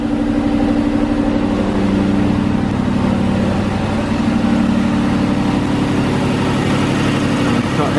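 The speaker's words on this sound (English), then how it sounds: "That engine just purrs." An Aston Martin V8 Vantage with its 4.3L V8 idles steadily and loudly up close, a smooth, even mechanical rumble that holds unchanged throughout with no revving.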